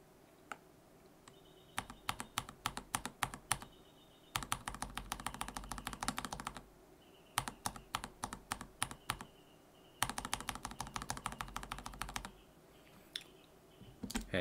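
Keyboards fitted with Joininkeys Prince and Zealios v2 switches are typed on in quick alternating bursts, crisp clustered key clacks near and fairly quiet, separated by short pauses.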